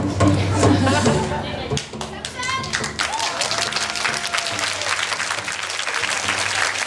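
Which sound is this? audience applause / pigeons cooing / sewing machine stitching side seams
audience applause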